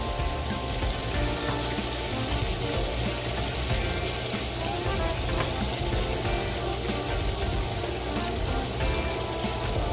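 Shrimp frying in hot oil, a dense, steady sizzle and crackle that fills the scene without pause, close and fairly loud, with no talking.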